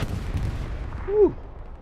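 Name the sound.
artillery fire in Hell Let Loose video game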